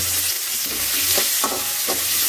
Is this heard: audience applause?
no